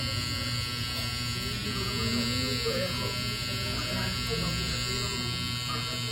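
Electric hair trimmer buzzing steadily and close throughout a haircut, a constant droning hum with no pauses, with talking over it.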